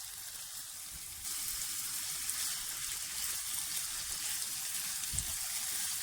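Finely chopped green and red chillies sizzle in a pan for chicken fajita rice, a steady close frying hiss that grows slightly louder after a second and continues without a break.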